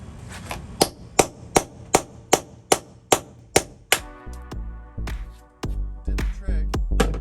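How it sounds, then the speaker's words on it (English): Hammer strikes on a chisel chip up the old floor of a campervan, a dozen sharp regular blows in a steady rhythm, then louder scraping and crunching of material breaking loose, all close by. "I think this chisel should honestly be able to do the trick"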